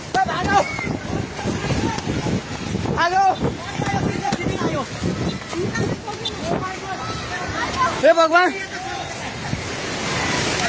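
Loud, roaring flash-flood water rushes down a river in Rasuwa, Nepal, a continuous broadband surge under frantic shouting and panicked voices throughout.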